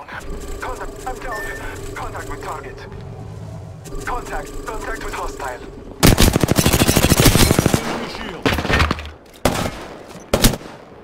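Rapid automatic gunfire in a squad-based video game, blaring in a loud sustained burst and then in shorter bursts, with game sounds beforehand and voices talking over the action.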